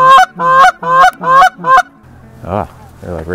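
Geese in a field honk loudly and close, with five rhythmic calls in quick succession followed by a couple of lower, softer honks amid a quieter background.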